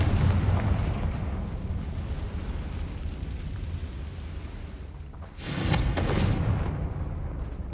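Confringo explosive spell blast in Hogwarts Legacy, a loud burst that swells suddenly out of steady rumbling game ambience, with a rough, roaring tail and no talk over it.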